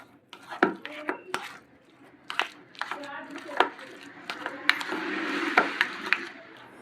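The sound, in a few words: mixing chutney and coriander into chaat masala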